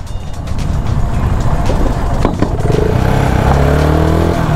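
A 650cc motorcycle pulls away hard in first gear, its engine note rising from idle into a loud, steady, throaty drone that climbs in pitch as it accelerates close by.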